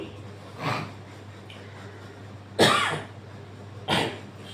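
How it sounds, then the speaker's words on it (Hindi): Three separate coughs, harsh and close, spaced irregularly over a quiet background. "खांसी आती है इनको"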